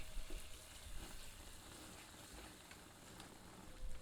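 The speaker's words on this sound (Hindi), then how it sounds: "और करछी चलाते रहते हैं ताकि मसाला तली पर ना चिपके।" A ladle stirs masala frying in a pan for jackfruit curry, giving a steady, soft sizzle with faint scraping. The sound is quiet and continuous throughout, and nobody speaks.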